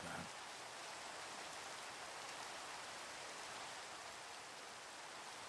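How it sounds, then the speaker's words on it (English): Minecraft rain falls in a steady, even hiss with no breaks, soft and uniform from start to finish. "Nothing beats Minecraft rain."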